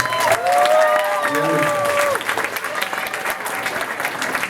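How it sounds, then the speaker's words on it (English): School coffeehouse audience applauding the performers, with loud clapping, whistles and cheering voices at first, then steady clapping continuing. "give the performers a round of applause, please"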